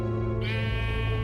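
A single sheep bleat in Minecraft Story Mode, a short wavering cry heard up close and clear with no talk.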